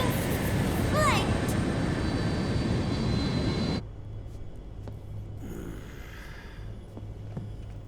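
Inside an airplane cabin in the Metal Gear Solid 4 video game, a steady jet engine drone fills the background, loud at first and then dropping to a lower, quieter hum partway through.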